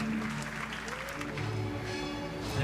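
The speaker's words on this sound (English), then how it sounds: "that sounded like a perfectly normal crowd" A crowd applauds at a Ubisoft show, steady clapping filling the hall throughout, with a low hum of music or tones underneath.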